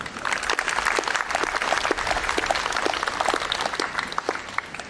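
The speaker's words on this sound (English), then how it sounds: "I'd like a round of applause, please, for Colin and all the people that assisted to make this project special." Steady applause from an outdoor ceremony crowd honoring a wood carver and his helpers, with many hands clapping at moderate volume and sharp individual claps popping out throughout, no speech over it.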